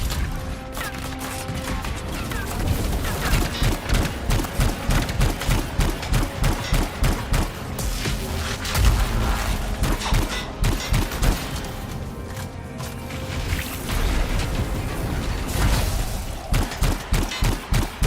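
Rapid, continuous video game gunfire fills the whole stretch: dense bursts and sharp repeated shots with crashing impacts, loud and close, with no talking.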